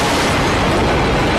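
A loud, dense explosion blast in a film action scene at a building, a continuous roaring burst that fills the whole moment with no speech.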